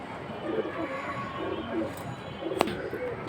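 Pigeons of old local breeds coo softly and repeatedly at a crowded pigeon market, their low throaty calls layered over steady background murmur, with a sharp click cutting through near the end.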